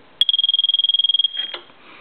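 A piezo buzzer beeps in a rapid, steady stream of about twenty short, shrill pulses, then cuts off into a brief rattle of handling noise.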